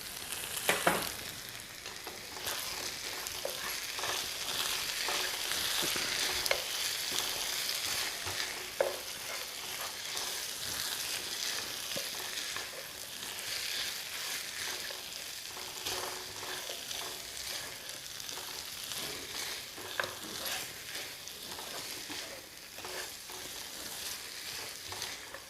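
Spicy chicken fries with green chillies and cumin powder in a pan at home, giving a steady close sizzle with occasional stirring scrapes and clinks throughout and no talking.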